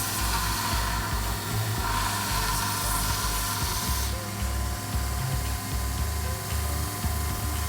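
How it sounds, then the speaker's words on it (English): A bench grinder shaping a knife blade cut from an old file, giving a continuous loud whirring grind with a rough, rasping texture as the steel rocks back and forth against the wheel, with no voices. "You can get a really nice arc using the flat surface on this bench grinder and being consistent as you rock it back and forth"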